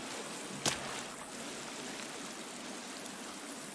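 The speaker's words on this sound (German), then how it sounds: "Oh, ein Wasserfall." Steady broadband rush of a waterfall in the survival video game The Forest, a continuous roar filling the whole stretch with one brief sharp click near the start.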